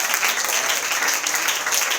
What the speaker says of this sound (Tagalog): Palakpak pa sa Panginoon.